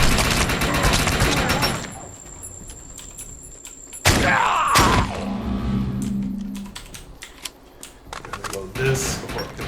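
Gunfire in the video game Defiance 2050, with bursts of shots mixed with clattering effects and a sharp explosive hit midway, heard close and loud with game sounds around.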